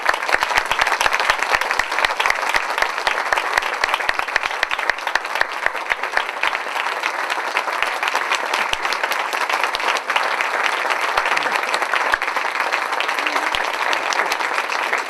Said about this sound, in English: Round of applause, Robert Davi, everybody.